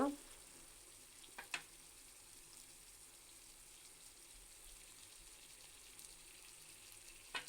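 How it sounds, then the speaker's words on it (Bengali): Hilsa fish pieces go into hot oil with cooked-down bottle gourd and vegetables, giving a faint, steady sizzle broken by a few soft clinks at the start and end. "আমার সবজি থেকে তেল ছেড়ে দিয়েছে যে আমি মাছগুলো দিয়ে দিব"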